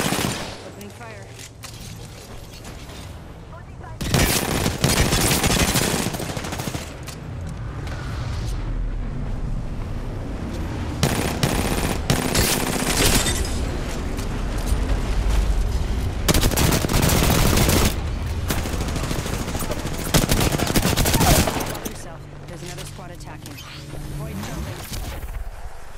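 Machine gun fire in the video game Apex Legends comes in loud, dense bursts of rapid shots separated by short pauses, with an in-game voice line heard between them.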